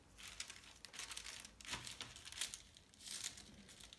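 Sheets of paper crinkle and rustle in several close bursts while a sewing pattern is cut out and handled, with no talking.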